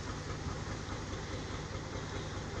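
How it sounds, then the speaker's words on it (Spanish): A tractor pulls a crop out of the ground in a field, its engine giving a steady, faint, rumbling drone with a low repeating throb and broad mechanical noise throughout. "Qué bonito se ve cuando lo va sacando el tractor así."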